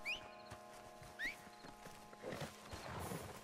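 Hooves clip-clopping from a horse in the video game Red Dead Redemption 2 Online, a few soft rhythmic thuds with a short whinny near the start, quiet and fairly distant over faint game ambience.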